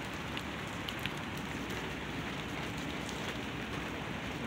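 Steady rain falls on outdoor surfaces where cats wait, a dense even hiss of drops with occasional louder individual patters, close and constant, with no talk.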